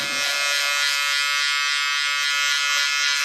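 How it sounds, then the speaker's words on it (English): An electric foil box shaver buzzes steadily and loudly up close while fading hair down to the skin on a fauxhawk with a skin taper, a continuous high-pitched whir with no pauses or speech. "Pull the box shaver back out and work down."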